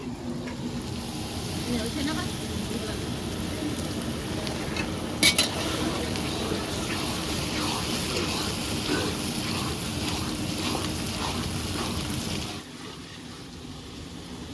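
Ginger, onion and green chili paste frying and being stirred in a pan: a continuous close sizzle with rhythmic scraping and stirring strokes, easing off near the end.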